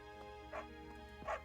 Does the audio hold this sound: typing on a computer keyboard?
no